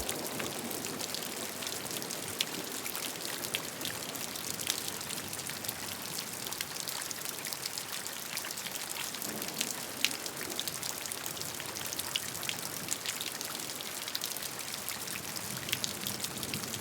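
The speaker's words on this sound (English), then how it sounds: "Be one with the rain." Steady rain patters on a surface, many drops blending into an even, soft hiss that holds for the whole stretch with no voices.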